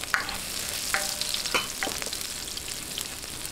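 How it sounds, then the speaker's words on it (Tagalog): Oil sizzles steadily in a pan as aromatics are sautéed for pocherong baboy, with light scraping and stirring clicks over a constant close frying hiss. "Ngayon po, mag-gisa na po tayo."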